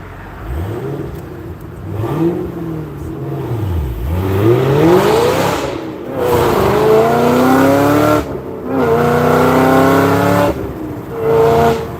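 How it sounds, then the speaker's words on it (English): A car pulls away and accelerates hard, its engine climbing through repeated rising revs with brief drops between gear changes, loud and close, no talk over it. "Let this car go and let this car go."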